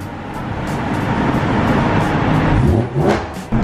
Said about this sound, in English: this bus is gonna ruin my vibe over here